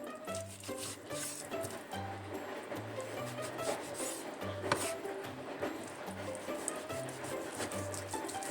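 Knife cutting through slow-cooked beef cheek on a board, with soft repeated slicing and pressing strokes at close range and a low hum in the background.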